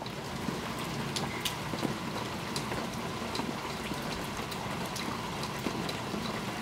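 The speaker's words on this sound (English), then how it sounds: "Look at all the rain" Steady rain falls outdoors in a dense, even patter, with scattered sharper drops striking close by, continuous and moderately loud throughout, no speech.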